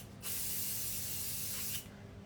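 Hairspray sprayed onto a styled sunggar hairdo in one continuous, loud, close hiss lasting about one and a half seconds, with a quiet room before and after.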